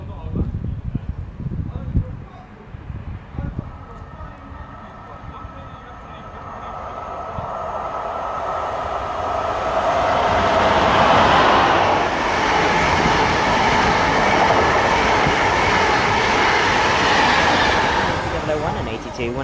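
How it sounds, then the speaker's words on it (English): An intercity train passes through Romford station on the Great Eastern Main Line, with people talking at first before the rumble builds into a loud, sustained roar as the train runs by close up. "These intercity sets are too photogenic to ignore."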